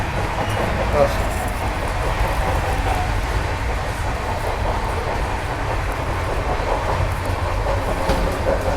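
Inside a first-class AC coach of a moving express train, a constant low rumble of the carriage mixes with rhythmic wheel clatter, with faint voices in the background.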